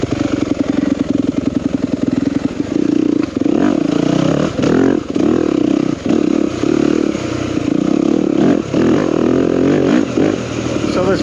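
A 2021 Yamaha YZ250FX four-stroke dirt bike engine revs hard while riding, loud and close, surging and dropping through repeated throttle blips with a rough, buzzing note.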